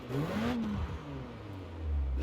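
An Alpine A110 engine in Forza Horizon 4 heard from inside the cabin, muffled, with a low rumble and a whooshing intake rising and falling as it revs.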